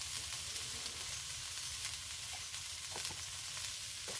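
Cauliflower cooks with salt and turmeric in a pan, sending up a dense, continuous sizzle with a few faint scraping stirs, close and alone without speech.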